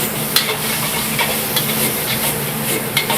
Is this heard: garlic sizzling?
yes